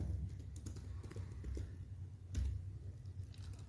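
Soft, uneven tapping of keys on a computer keyboard during a coding session, quiet clicks in irregular bursts over a low background hum.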